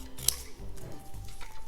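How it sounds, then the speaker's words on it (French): Scissors make a single quick crisp snip through a tiny piece of paper for an intuitive collage, close and distinct, followed by faint rustling and handling noise. "Je vais essayer de couper un tout petit morceau."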